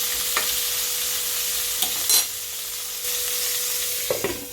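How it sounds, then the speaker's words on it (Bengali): Vegetables frying in a pan sizzle steadily while a utensil stirs and turns them, with three or four short scraping strokes standing out above the hiss. "ভাজাগুলোকে একদম উল্টে পাল্টে ভালো করে"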